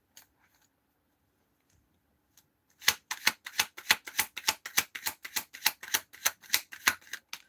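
Tarot cards are shuffled in a quick burst of about fifteen crisp, rhythmic riffling snaps, close and clear, following a couple of seconds of near silence.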